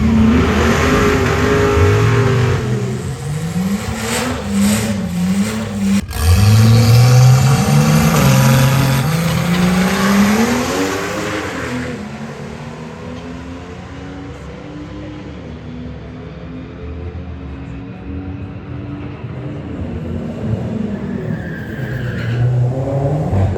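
A Ford Foxbody drag car launches down the strip at Santa Pod with a brief tire squeal, then the engine revs hard through rising gear pulls and fades as it runs away into the distance, returning faintly near the end.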